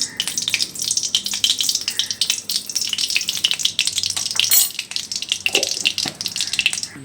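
Ghee melting and sizzling in a pan, a busy crackling hiss with irregular sharp pops and spits, fairly close and moderately loud, with no talking.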